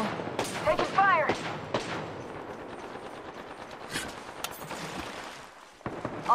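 Sharp gunshot bursts crack out of a shooter video game, several quick reports early on and a few scattered ones later over low ambient game noise.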